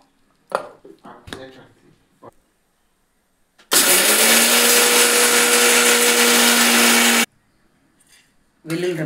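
A kitchen mixer grinds roasted coriander, peanuts and dried chilies in a loud, steady whirring burst of about three seconds, set between quieter clatter and a voice speaking before and after.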